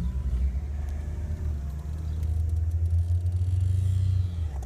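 Manual car pulling away as the clutch is eased out, a steady low engine rumble that builds slightly as it accelerates, close and continuous with no talk.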